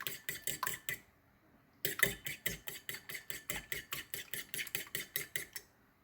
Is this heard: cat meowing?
no